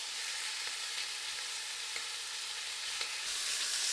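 Grilled cheese with bacon frying over a hot, smoky campfire at a snowy off-grid cabin gives a steady, close hiss of sizzling fat, with a few faint crackles and pops rising through it and nobody talking.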